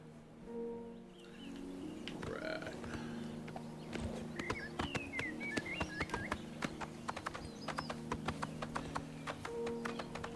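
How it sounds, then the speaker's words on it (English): Horse hooves clip-clop in a steady walking rhythm in Oblivion Remastered, close and distinct over a soft ambient music bed, with chirping birds joining partway through. "We're gonna grab our horse and then ride around the periphery of the city."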